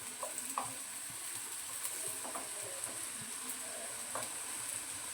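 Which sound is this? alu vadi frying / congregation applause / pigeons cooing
alu vadi frying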